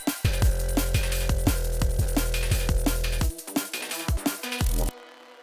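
Drum and bass riff with synth chord stabs over deep bass and fast breakbeat drums, dense and loud, the low end dropping out midway before the whole groove cuts off near the end.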